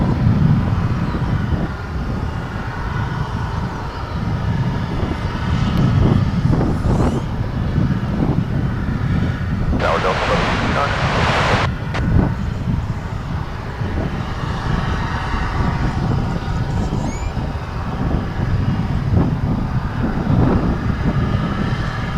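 Jet aircraft departing DFW International Airport, a broad steady roar at moderate distance with wind buffeting the microphone and a brief louder gust of noise midway.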